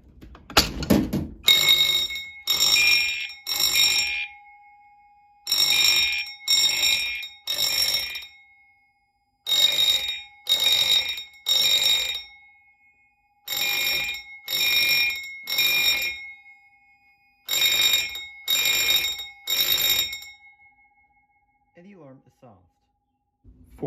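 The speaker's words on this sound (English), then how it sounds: "I'm going to pull the Notifier pull station" A Notifier fire alarm system set off from its pull station blares in loud repeating bursts of rapid ringing, three pulses per group with short gaps between groups, a temporal pattern cycling for about twenty seconds before falling silent.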